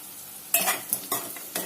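A spoon stirs capsicum and tomato curry frying in a pan, making several short scraping and sizzling bursts at close range, with quiet pauses between strokes.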